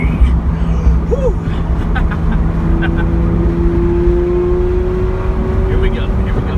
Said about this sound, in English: Rolled the windows down, and you got to hear that V12 engine just roar.